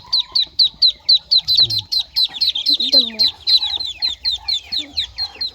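Chickens cluck close by in a Mindanao backyard where ducklings have hatched, a steady run of rapid, sharp calls, with brief talk over them.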